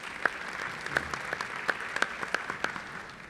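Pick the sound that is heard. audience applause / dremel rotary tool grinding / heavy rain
audience applause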